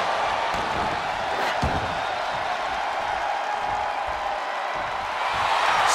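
A packed wrestling arena crowd during Monday Night Raw roars and cheers in a dense, sustained wall of noise, steady and loud throughout with a few scattered sharp bangs.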